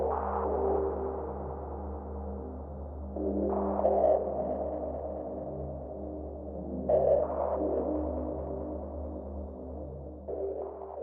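Distorted, resonant synthesized tone built from white noise, a steady droning hum with low throbbing harmonics that swells into brighter, noisier bursts about every three seconds, sounding alone at moderate level.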